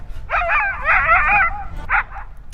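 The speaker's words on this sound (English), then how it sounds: "Get back in the boat, you stupid dog!" A dog named Dutch yelping and whining in water, a near, high-pitched stretch of excited yips and whimpers, then two short cries.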